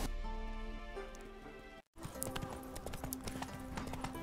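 Horse hooves clop in a steady rhythm in The Witcher 3 video game, with the sound cutting out briefly for a moment midway before the hoofbeats resume, fairly faint and alone.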